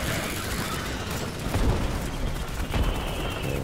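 In the video game Starship Troopers Extermination, glitchy gunfire makes a dense, continuous roar of overlapping shots and booms. It stays loud and unbroken throughout, with no clear individual reports.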